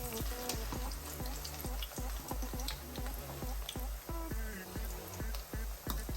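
Plantains sizzle and spit in hot oil in a pan as they are turned, with repeated soft clinks and taps from the utensil over a steady bright frying hiss, traditional Jamaican breakfast style.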